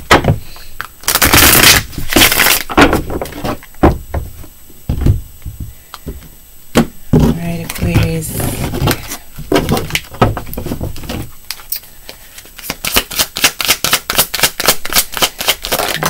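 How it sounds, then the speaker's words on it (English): Tarot cards are shuffled up close in repeated bursts of riffling, flapping and soft thumps, ending in a fast, rhythmic run of crisp card flicks. "This is the last shuffle."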